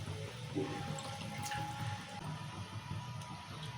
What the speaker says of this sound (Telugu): అందుకే వాటర్ కొన్ని పోసాను